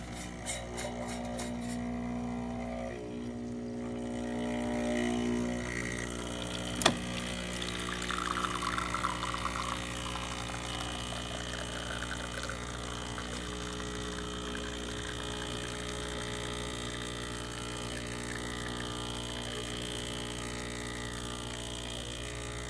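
An espresso machine pours a shot of old coffee after a filter basket repair and full service, its pump humming steadily under a thin trickle, with one sharp click partway through and no talking.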